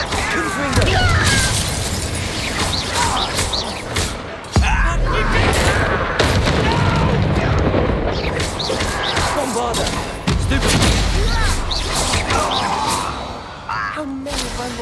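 Confringo fire spells and other combat magic in Hogwarts Legacy, loud dense bursts of blasts and crackling impacts tumbling over each other throughout, with voices calling out amid the chaos.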